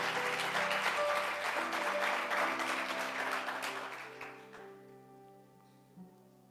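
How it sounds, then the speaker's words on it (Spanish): A church congregation breaks into loud, enthusiastic applause for the Lord while organ or keyboard chords sound underneath, then the clapping fades away over a few seconds, leaving the sustained music alone. "Dale un aplauso son. Al Señor."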